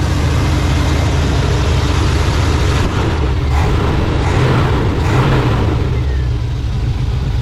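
A 1987 GMC Suburban engine runs loud and close after its carburetor adjustment, a rough, steady rumble with slight fluctuations in pitch throughout.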